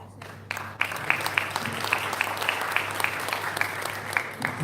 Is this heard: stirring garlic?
no